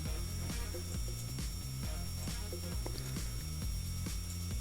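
Surgical drill in the Surgeon Simulator video game, a steady mechanical ratcheting whir with repeating rhythmic clicks, loud and continuous throughout without talk.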